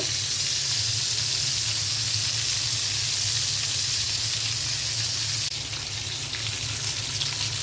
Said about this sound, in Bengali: আমি চার টুকরা পাঞ্জাব মাছ ভেজে নিচ্ছি কড়া করে ভেজে নিব